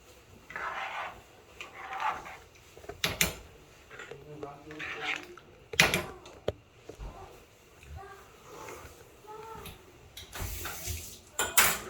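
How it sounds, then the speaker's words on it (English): Rice with pigeon peas stirred in a cooking pot, giving repeated scraping and clinking of a utensil against the metal in irregular bursts, close by, with a person talking at times between the strokes. "Mix all that in there."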